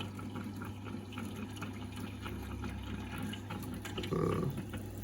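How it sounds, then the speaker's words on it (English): A Boyu TL550 protein skimmer overflowing with foamy water gives a steady bubbling, gushing wash over a constant low pump hum, fairly quiet and even throughout. "Bubbles come flowing over the top, you see that?"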